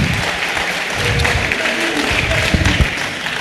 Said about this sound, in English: A round of applause for ourselves, please.